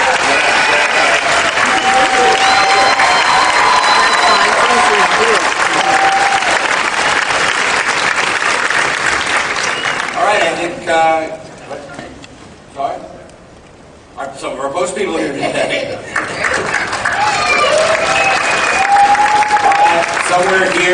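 A large Comic Con crowd at a Smallville panel claps loudly for the show's writers, sustained dense applause that dips briefly into quieter murmuring before rising again, with a few voices and cheers scattered through it.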